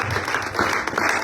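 A church congregation applauds in a steady, dense burst of clapping that fills the whole moment, fairly loud and close.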